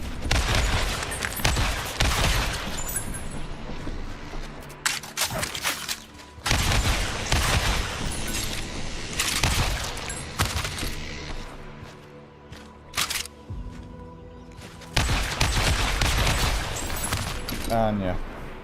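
Bursts of gunfire from a shooting video game, loud volleys in several separate clusters with brief quieter gaps between them, and a voice talking faintly underneath.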